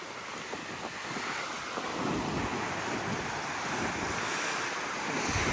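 Ocean waves crash against rocks in worsening weather, a broad wash of surf surging louder partway through, with wind buffeting the microphone and heavy low rumbles throughout.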